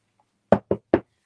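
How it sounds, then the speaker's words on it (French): Three firm knocks on a door come in quick succession, close and distinct, against silence, with no voices during the knocking. "Toc, toc, toc, qui est là?"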